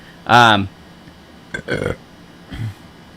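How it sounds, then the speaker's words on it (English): A loud, close belch opens the moment, followed a second later by a person speaking briefly, with a short vocal sound near the end. "Very rude of me to just burp in y'all's face."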